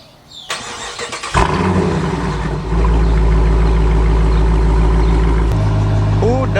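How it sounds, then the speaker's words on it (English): A Dodge Challenger R/T cold start: a brief starter crank, then the engine catches with a loud burst and settles into a deep, steady high idle close by, with the tone shifting slightly near the end. "Who doesn't love cold starts?"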